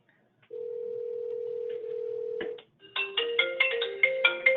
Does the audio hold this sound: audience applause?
no